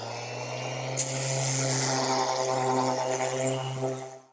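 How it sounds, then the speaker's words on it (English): Power sanding of Bondo body filler on a car panel during restoration prep for paint, a continuous steady buzzing whir with a sharp scrape near the start, loud and close. "let me throw the mask on and see what we get from sanding this time"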